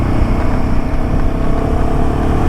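Royal Enfield Himalayan 450 motorcycle being ridden, its engine droning steadily and loudly under constant wind and road rumble, with no voices.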